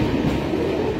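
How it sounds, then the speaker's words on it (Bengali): A train passes through a suburban railway station, a loud continuous rumble and rolling rattle of carriages close by, with no talk over it. "ট্রেন গেল দেখলে তোমরা"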